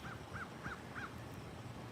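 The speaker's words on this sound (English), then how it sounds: "Here's some crows maybe." Four quick caws from crows in a park, evenly spaced in the first second, fairly faint and distant over a soft outdoor background, then only quiet ambience.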